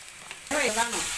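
Mustard seeds spluttering in hot oil, starting quiet and then breaking into a sudden loud, close crackling sizzle for the last half second or so.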